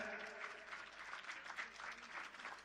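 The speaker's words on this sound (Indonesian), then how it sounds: "Wih, tepuk tangan dulu ya." Stand-up comedy audience at the Bali Digital Festival 2022 claps steadily, a dense, fairly soft wash of hands with faint voices mixed underneath.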